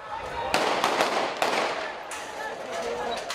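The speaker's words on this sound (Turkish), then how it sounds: "sonra silah sesleri duyuldu." Sharp gunshots ring out at a riot as German police fire on a rioting football fan, several cracks in an irregular burst over a noisy, chaotic crowd.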